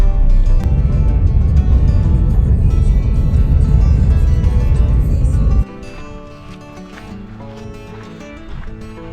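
Steady loud rumble and road roar from a car travelling at a constant 80 km/h on a corrugated outback dirt road, continuous for most of the stretch before dropping to a lower, quieter drone.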